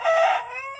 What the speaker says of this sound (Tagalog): papapansin yung manok